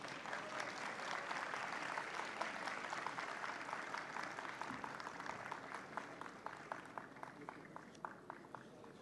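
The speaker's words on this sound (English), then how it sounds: "with a huge round of applause" Applause at a graduation ceremony as a token of appreciation goes to the chief guest, a sustained crowd clap that thins toward the end into more distinct, spaced claps.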